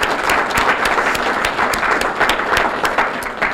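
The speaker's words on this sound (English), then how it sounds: "Let's have a big round of applause for our sponsors." Audience applause for the sponsors at the North Haven First Selectman's 2019 State of the Town address, dense steady clapping from a crowd filling the room, sustained and fairly loud throughout.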